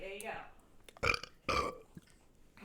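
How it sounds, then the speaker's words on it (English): A dog lets out a loud burp while having its teeth brushed, a short guttural belch at the start followed by a person speaking briefly. "That's the dog burping because he's getting his teeth brushed."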